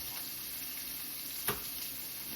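Shrimp sautéing in a pan for linguine, a soft steady sizzle with one brief clink partway through.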